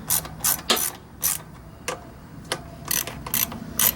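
A ratchet loosening carburetor mounting studs on a Troy-Bilt TB240 engine: short bursts of sharp clicking ratchet strokes, close and distinct, with pauses between them and no talk.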